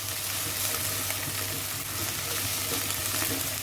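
Ginger garlic paste frying with onions in a pan over medium flame, a continuous dense sizzle held at a steady level throughout, with no voices.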